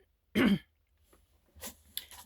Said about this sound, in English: I started this coughing crazy thing